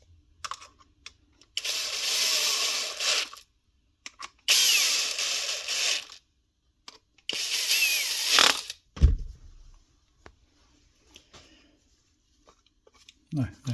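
The plastic body of a DeWalt DCW600 cordless trimmer is screwed together with a power driver, three whirring bursts of a few seconds each separated by pauses, followed by a clunk, with some speech nearby.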